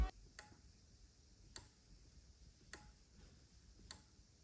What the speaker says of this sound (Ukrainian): При цьому під час спрацьовування чутно тихе клацання реле.